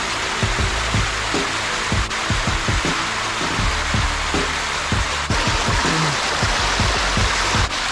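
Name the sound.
mini waterfalls and stream flowing in Thai jungle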